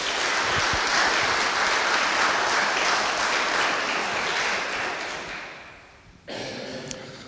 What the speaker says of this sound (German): Ich glaube, das ist auch ein Applaus wert.